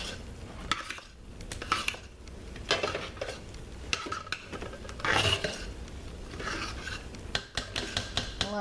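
A spoon stirs homemade natural soap mixture in a container, producing irregular scraping and clinking strokes that rise and fall, close by, with faint background noise and no talk.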